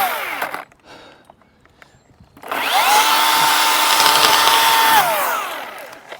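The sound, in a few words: saw cutting a tree limb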